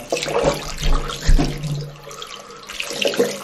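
Tap water runs into a household sink, warming up for wetting cloth baby wipes, a steady splashing flow with a few louder gushes and surges throughout.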